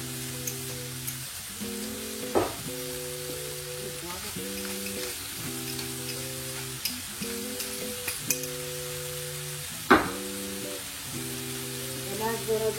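Tomatoes go into a pot of sizzling seafood stew, the frying hiss steady and close throughout, broken by a few clinks and stirring knocks while a person talks.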